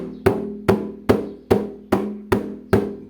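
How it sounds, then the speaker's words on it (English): A hand drum struck with the whole hand bouncing off the head, seven evenly spaced resonant thumps with a warm low tone, close and alone, each ringing briefly before the next. "That is the sound of your drum."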